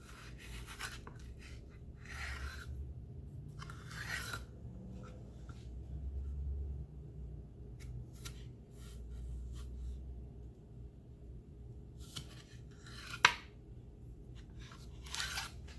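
A knife slices through cucumbers for homemade pickles, giving faint, close crunches and board taps scattered irregularly over quiet room hum.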